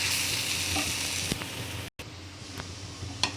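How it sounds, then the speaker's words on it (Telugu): Oil sizzles steadily as spices temper in a pan on a low flame, with a brief break and a couple of sharp clinks of a spoon stirring. "ఫ్లేమ్ సిమ్లో పెట్టేసి పోపు వేస్తే ఇలా కలుపుకోవాలి."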